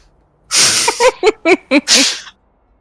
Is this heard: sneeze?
yes